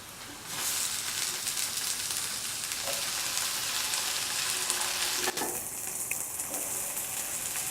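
Onions and tomato sizzle in a hot pan for a stew, a steady close frying hiss with soft crackles and a brief stirring clatter partway through.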